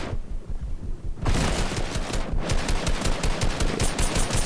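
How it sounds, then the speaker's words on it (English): Rapid automatic gunfire from the video game Fortnite: a quieter opening gives way to sustained, dense bursts of loud shots, with a brief gap before the firing resumes just as heavily. "Oh, looks like someone's taking a shot at me."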